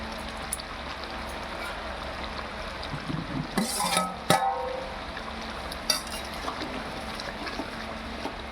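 Fried onions and whole garlic are tipped into a pot of cooked chicken and stirred, with soft scraping and a few clattering knocks over a low, steady background hiss, quiet and close.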